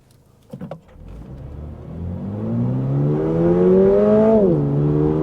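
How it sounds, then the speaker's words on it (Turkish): A 2022 Toyota GR86 pulling away from a standstill after a couple of short clunks, its engine note climbing steadily through the revs, dropping briefly at a gear change, then rising again, close and loud. "Sırada bir kez daha sıfırlayıp aracı bir hızlandıralım."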